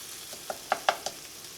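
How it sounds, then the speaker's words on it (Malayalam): A spoon stirs and mashes tomatoes frying in an open pan for a vegetable lunch-box filling, giving a few soft, close scraping clicks over a faint, quiet sizzle. "നമ്മളിങ്ങനെ ഇളക്കിയിരുന്ന സമയത്ത് തക്കാളി ഇതേപോലെ ഒന്ന് ഉടച്ചും കൊടുക്കണം കേട്ടോ"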